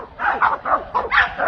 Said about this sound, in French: de voir les chiens s'aboyer comme ça dessus